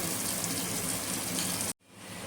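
Water from a blender jar poured into an anchovy (nethili) fish curry, a steady broadband gush lasting almost two seconds that cuts off abruptly, followed by quieter kitchen ambience.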